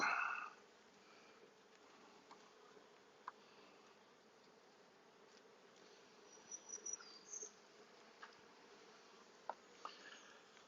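A faint, steady hum of honeybees buzzing around a hive, with occasional louder individual bees passing close by; no talking.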